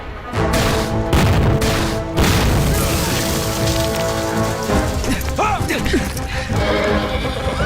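Small-arms gunfire in a mountain battle, with no heavy weapons, cracks in sharp bursts early and then grows sparser. A horse whinnies amid the noisy, rain-like battlefield clatter.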